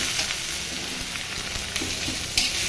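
Boiled red amaranth greens sizzle in oil tempered with five-spice, a dense, steady frying hiss with a few small pops and stirring scrapes, fairly close and with no voices.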